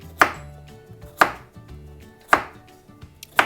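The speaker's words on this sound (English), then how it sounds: "we're gonna go ahead and just chop our carrots" Knife chopping carrots into small rounds on a cutting board, four sharp, separate thuds spaced about a second apart with quiet gaps, close and clear, no talking.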